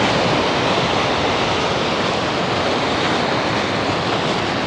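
Surf breaking on a beach in the Lofoten Islands, Norway, a steady broadband wash of waves roaring close and loud throughout, with no voices.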